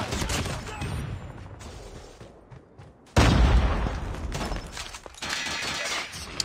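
Bursts of gunfire from the Koshka in a Call of Duty ranked match crackle in rapid volleys, briefly dropping away before a loud, dense barrage of shots and impacts resumes.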